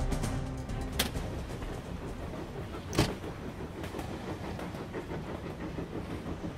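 A train in motion, from The 39 Steps video game, rolls along with a continuous rumble and rhythmic clatter, marked by a couple of sharp metallic clanks.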